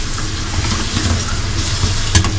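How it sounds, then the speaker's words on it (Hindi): Garlic-ginger paste frying with tomatoes in hot oil for an aloo tehri, a steady close sizzle with faint stirring clicks and a small scrape near the end. "थोड़ा सा ना लहसुन अदरक भून लूँ तो अच्छा से ही इसका टेस्ट आता है"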